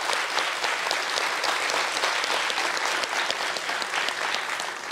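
An audience applauds an artisan on a Brazilian music TV show, dense steady clapping that fills the room at full level without a break before thinning slightly at the end.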